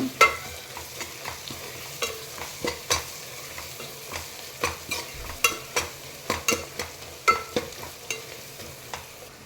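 Ground masala sizzles in a hot pan while being stirred for a meal maker veg pulao. A spoon scrapes through it in steady, evenly spaced strokes, close and clear over a constant frying hiss, with no talk.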